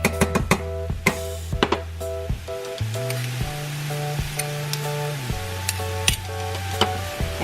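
Beef and broccoli being stirred in a hot pan, with repeated sharp clinks and scrapes of a utensil against the pan over a continuous sizzle and hum.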